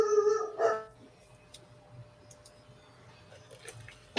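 A dog barks once close by, a short tonal bark or yip at the start, followed by quiet room noise with faint scattered clicks.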